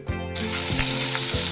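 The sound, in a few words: banana slices frying in boiling coconut oil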